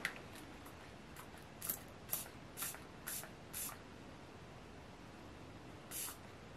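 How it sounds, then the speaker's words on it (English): A makeup setting spray with a cucumber scent is pumped in a series of short, crisp hissing bursts, about eight close spritzes in an irregular rhythm with quiet pauses between, no voices. "But we do have a setting spray, and let me try that out."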